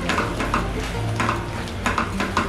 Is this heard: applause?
no